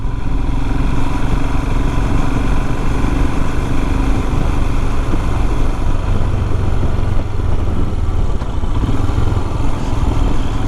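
A motorcycle ridden along a country lane past a walled garden, its engine droning steadily and loudly close by with a constant rumble and no pauses, and no voices over it.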